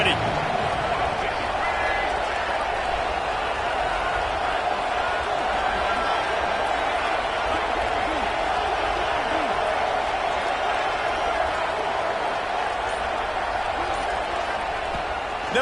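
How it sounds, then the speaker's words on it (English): A college football video game stadium crowd at Ole Miss roars in a steady, dense wash of cheering and noise, with game commentary talking over it throughout. "this crowd is ready."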